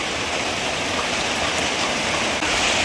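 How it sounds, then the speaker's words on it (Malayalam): Heavy rain pours down in a dense, unbroken hiss, loud and steady throughout with no voices. "ഇപ്പോൾ കാഴ്ച നല്ല മഴയാണ് കേട്ടോ"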